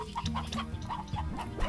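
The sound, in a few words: chickens clucking in the video game Slime Rancher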